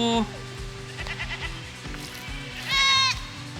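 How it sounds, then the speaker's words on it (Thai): Goats kept in a roadside pen in rural northern Thailand, between Chiang Mai and Lampang, give a couple of loud wavering bleats, one at the start and one near the end, while a person talks nearby. "ทางผ่านมีเลี้ยงน้องแพะด้วย"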